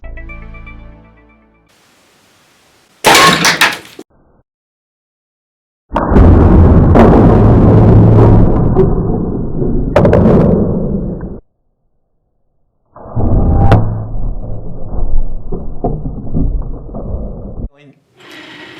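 A Black Widow Arachnid six-blade broadhead arrow fired into concrete: a sharp crack of impact, then loud, noisy bursts with hard clattering hits, separated by silent gaps.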